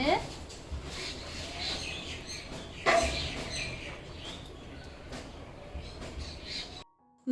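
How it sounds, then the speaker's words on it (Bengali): Birds call near a home balcony at midday, with faint scattered chirps and calls over a steady background hiss and a sharper burst around the middle; no talking. "ব্যালকানিতে আসলে কত পাখির ডাক শুনতে পাই"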